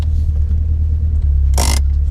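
Renault 5 GT Turbo engine rumbling steadily while driving, a deep continuous low drone with a brief broadband burst of wind or road noise near the end; no talking.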